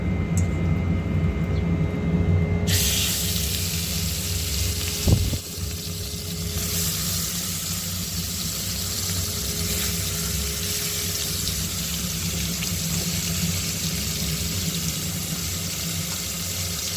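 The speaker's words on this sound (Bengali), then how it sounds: "এবার বাকি মাছগুলো এভাবে দিয়ে দিচ্ছি। এবার মাছগুলো ভালোভাবে ভাজবো" Rohu fish pieces frying in oil in a pan in a village kitchen: a soft steady hiss that becomes a loud, dense, continuous sizzle after about three seconds, with no talking.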